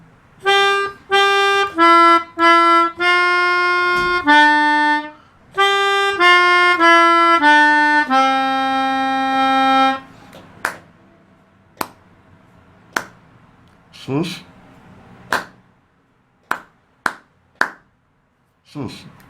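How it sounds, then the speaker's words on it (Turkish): Melodica tune played in short phrases, followed by sharp, close hand claps in a sparse rhythmic pattern with pauses, each clap alone and distinct, from a sixth-grade music lesson. "bir önceki kısımdan bağlayayım ve alkışlar yapayım"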